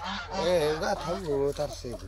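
Several geese honk loudly and close by, overlapping nasal calls in quick succession for a couple of seconds.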